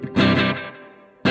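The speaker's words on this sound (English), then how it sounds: "here on top we have a full tone echo, which is I control with this pedal" Electric guitar played through a Fulltone echo pedal, a sustained chord ringing out and decaying with repeating tails before a fresh strum hits near the end; loud and close, with no talking.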